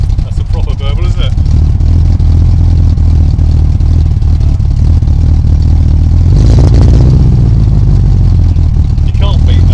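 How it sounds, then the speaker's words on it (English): A 1976 Triumph Stag Mark 2 engine burbles loudly and steadily at close range, with a brief rise in revs partway through. "That's a proper burble,"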